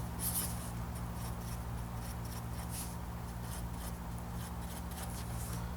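A marker or pen draws a number on a board, with short scratchy, squeaky strokes repeating in bursts over a low steady hum.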